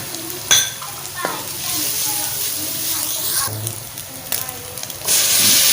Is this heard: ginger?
yes